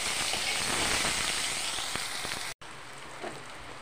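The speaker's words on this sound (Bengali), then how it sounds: "দেখো লাল লাল করে ভেজে নিয়েছি" Potatoes with a little turmeric fry in hot oil, a dense steady sizzle like rain that runs loud and unbroken, cuts out briefly, then returns a little quieter.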